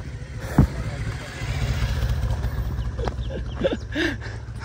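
A motorbike pulling up on a hill road in Upper Dhangadhi, Chitwan, gives a steady low engine rumble close by, with a few brief knocks and faint voices over the top.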